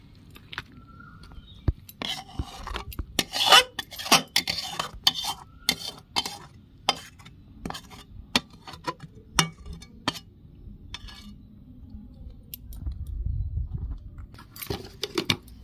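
Thick homemade jujube (kul) pickle is spooned from a pot into a container: repeated scraping and sharp metal clinks in uneven bursts, close by, with a soft low rumble near the end.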